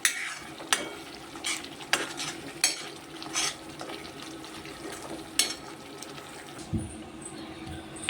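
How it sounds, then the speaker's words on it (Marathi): Semolina sheera being stirred in a pan for prasad, with a spoon scraping and knocking against the metal in repeated strokes over a low background sizzle, close and steady. "थोडा थोडा हलवतच राहायचा आहे तो नाही तर खाली लागून येतो"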